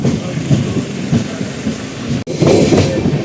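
The Tirupati Express rolls along near Arakkonam, a loud, close rumble of wagons with rhythmic clattering wheels, a brief sharp drop midway, then the steady running noise again.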